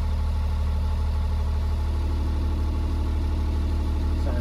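A truck engine runs loud and steady during an air brake test, a heavy low rumble holding constant throughout with a slight rise near the end as it is helped to rev up; no voices.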